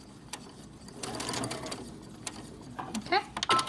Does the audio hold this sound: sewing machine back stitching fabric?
yes